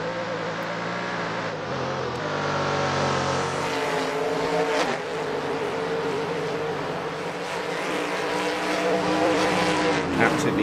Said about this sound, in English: Absolutely stunning to see all these cars pushing it quite as hard as they are